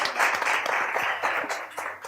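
A studio audience on a French-language TV talk show applauds: a brisk, crackling patter of many hands clapping at once, moderately loud and fairly steady throughout before easing slightly toward the end.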